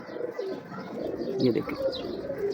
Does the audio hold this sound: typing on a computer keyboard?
no